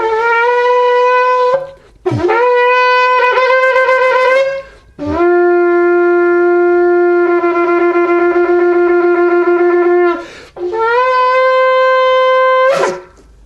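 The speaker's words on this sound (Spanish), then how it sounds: "Este es el shofar" A shofar, a ram's horn, blown in a church service: four loud sustained blasts with bright harmonics, the longest held several seconds, each ending in a sharp upward swoop, heard alone.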